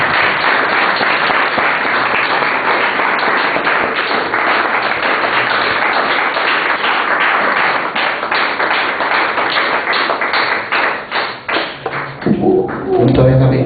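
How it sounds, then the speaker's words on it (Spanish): A congregation claps in a church service, dense steady clapping filling the space for most of the stretch, then thinning out near the end as a voice begins speaking. "Un aplauso, Señor, hermano."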